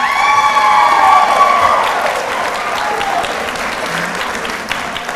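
Diners at an awards dinner give the nominees a round of applause, a loud, full wave of clapping with a few cheers and whoops that slowly tapers off.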